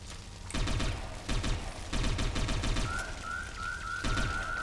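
Grenades exploding in Diablo III during a hardcore Monk fight: several thudding blasts in irregular bursts over constant battle noise, with a rising whistle-like tone near the end.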